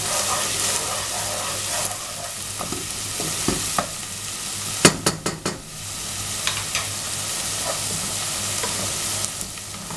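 Onion and garlic sauté in a hot pan, a steady close sizzle broken by scraping spoon strokes and a quick cluster of sharp clicks midway, with no voices.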